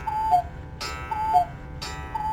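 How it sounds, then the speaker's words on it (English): Cuckoo clock sound effect: a two-note cuckoo call repeats three times in an even rhythm, each pair followed by a soft noisy burst, clear and alone with no voices. "Cuckoo clock."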